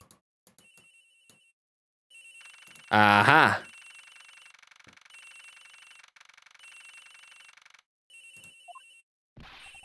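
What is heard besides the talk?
phone ringing in Ace Attorney Investigations video game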